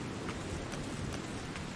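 Heavy rain falls steadily in a Lovecraftian horror video game set around a lighthouse, a dense, continuous wash of hiss with faint drop patter throughout and no voices.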